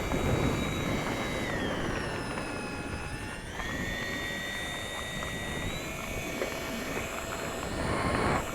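E-flite A-10 RC jet with twin 64mm electric ducted fans taxiing at low throttle, a continuous whining hum with high tones that slide up and down, steady and close throughout.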